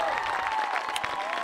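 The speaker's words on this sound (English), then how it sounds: "allegiances in this big crowd, cheering on their squads as they head back to the field here for the second quarter" A big crowd at a girls lacrosse championship game, Souhegan against Portsmouth, cheers and applauds steadily, a dense, continuous roar of clapping and voices with no breaks.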